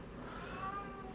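A cat meows once, faint and drawn out, indoors beside a computer during a live game-development session, with steady background hum and no talk.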